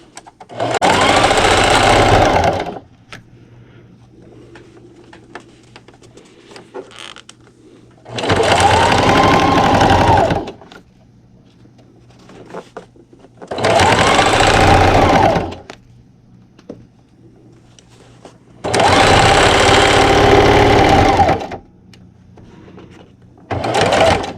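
A sewing machine stitches a seam on a hanging dish towel, running loudly up close in four steady bursts separated by short pauses.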